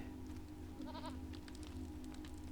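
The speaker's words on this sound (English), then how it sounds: "You've got one sick goat there." A sick goat in a Lord of the Rings Online–style fantasy game lets out one short, wavering bleat over a steady low game ambience.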